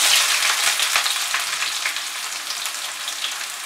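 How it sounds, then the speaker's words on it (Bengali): Chopped onion fries in oil over medium heat with bay leaf and dried red chili, giving a bright, continuous close sizzle that eases slightly as it goes on. "পেঁয়াজটাকে মাঝারি আঁচে সময় নিয়ে ফ্রাই করব"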